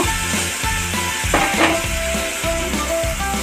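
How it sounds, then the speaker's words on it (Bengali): Fish curry of bata fish in mustard paste being stirred in a pan as water from the spice-paste bowl goes in, giving a steady close sizzle with scraping stir strokes and light utensil knocks throughout. "মশলা বাটার বাটিতে জল নিয়েছি, দিয়ে নেড়ে চেড়ে নেব।"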